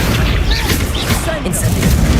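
A loud, dense blast from the Confringo spell in the Hogwarts Legacy video game roars without a break for about two seconds, with a heavy low rumble and voices mixed into the noise.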